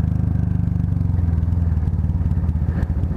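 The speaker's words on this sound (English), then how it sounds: "all the bulleteers were revving their bikes because it is like totally uphill" Royal Enfield Bullet motorcycles revving hard while climbing a steep uphill road, a loud thumping low engine pulse with rapid regular beats, close and continuous.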